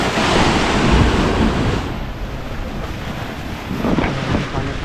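Sea waves surge and crash at the Brahmanghal rock gorge on Hedvi beach, a loud churning roar with gusty wind buffeting the microphone and a fresh surge building near the end.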